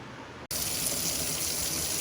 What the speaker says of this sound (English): So we're going to rinse them well and then come back.